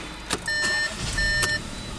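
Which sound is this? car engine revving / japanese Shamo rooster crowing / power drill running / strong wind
car engine revving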